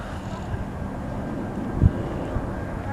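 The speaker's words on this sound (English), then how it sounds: "There's a plane there." An airplane passes overhead as a low, steady broadband rumble that fills the whole clip, with a faint thump near the end.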